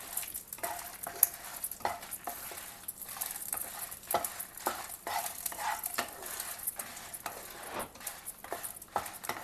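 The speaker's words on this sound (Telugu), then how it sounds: "వేగుతుందండి." Coriander leaves frying in oil over a medium flame, stirred with a utensil in a pan: continuous close sizzle with repeated scraping and clinks of the spoon against the pan, steady throughout with no talking.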